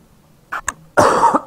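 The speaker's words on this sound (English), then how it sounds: "I had a cough there" A single sharp cough bursts out close by, preceded by a couple of short throaty catches, with quiet room tone before it.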